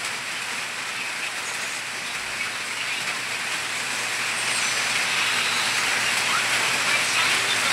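Steady rain falls outdoors around a rural yard, a constant, dense hiss of drops that grows slightly louder over the stretch, with no voices.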